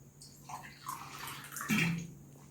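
Drinking water is poured into jars of homemade pickles with vinegar in a short, close splashing and gurgling fill lasting about two seconds.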